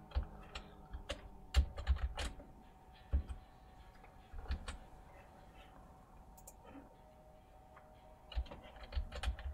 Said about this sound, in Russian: У меня клавиатура перестала